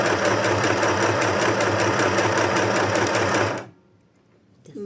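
Sewing machine stitching at a fast, even rhythm, loud and close for several seconds before stopping abruptly into near silence, with no talking.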